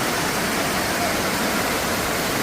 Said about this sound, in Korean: 계곡 양쪽에서 내려오는 물이 합류되고 나서 생긴 폭포이기 때문에 수량이 확실히 많습니다